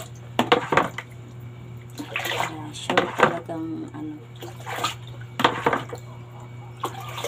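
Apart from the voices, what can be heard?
water while rinsing white laundry by hand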